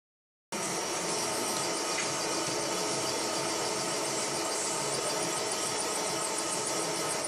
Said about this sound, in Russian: приступает к предварительному высверливанию шахты с сверлом диаметром 17 мм